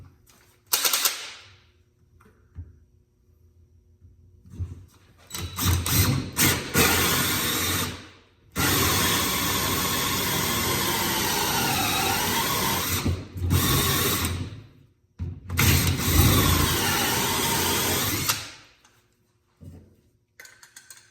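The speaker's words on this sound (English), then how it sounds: "I'll finish drilling through" A power drill whirs in long, loud bursts separated by short pauses, close by, with the motor pitch shifting as it bites through material.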